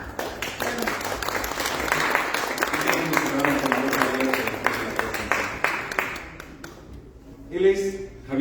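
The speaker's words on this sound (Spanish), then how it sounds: "Damos un aplauso." An audience at a magazine issue presentation breaks into sustained applause for several seconds, dense clapping that thins out and stops, followed by a brief voice.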